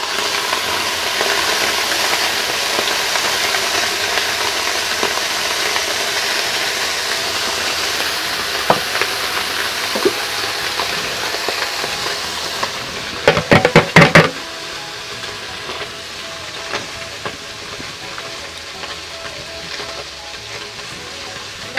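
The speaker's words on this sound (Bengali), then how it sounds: "মাছ তো আমি কড়াতে উঠিয়ে দিয়েছি এবার আরেকটু আমি মাছে তেল দিয়ে দিচ্ছি" Small chuna fish frying in oil in a wok give a steady, dense sizzle throughout, with a brief cluster of sharp clatters and knocks near the middle, likely a utensil against the pan.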